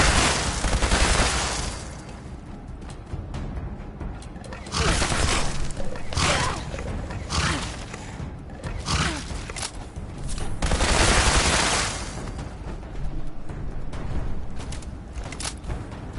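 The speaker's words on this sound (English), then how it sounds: "that super mutant shooting there" Gunfire from a super mutant in Fallout 76, coming as bursts of sharp cracking shots in irregular clusters, loud and close, mixed with other game noise.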